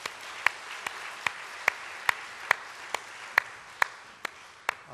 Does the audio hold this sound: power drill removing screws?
no